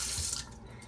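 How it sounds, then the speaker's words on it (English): Tap water runs hard over peeled shrimp for a brief, close splash that eases off after a moment, leaving a softer trickle. "Then what you're going to want to do is wash it with some water"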